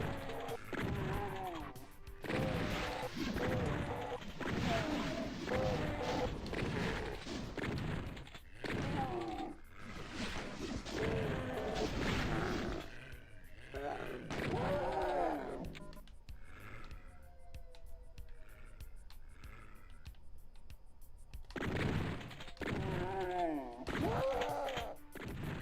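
Shotgun blasts and growling, snorting monsters fill a stretch of DOOM II gameplay on Xbox One, with repeated loud thwacks and crashes interrupted by brief quieter gaps.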